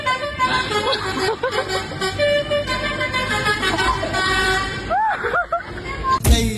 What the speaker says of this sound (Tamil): ஒரு ஹார்ன் மட்டும் இருந்தால் போதும்.